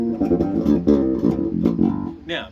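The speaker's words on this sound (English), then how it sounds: "So with everything off in the rear pickup, bass sounds like this." Electric bass guitar on its rear pickup with the Smith preamp controls switched off, played as a short, loud run of plucked notes with steady, rounded low tones and no voices.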